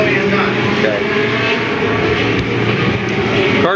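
Stock cars run bumper to bumper through turns 3 and 4 and down the front straightaway at Louisville Motor Speedway in 1992, a loud, steady engine roar of several cars passing together, with a commentator's voice woven through it.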